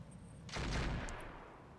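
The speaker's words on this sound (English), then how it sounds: "both misses from the Thunderbolt's auto cannons" Short burst of autocannon fire from a Thunderbolt mech in RogueTech, a single muffled volley that rises abruptly and fades over about a second, fairly faint.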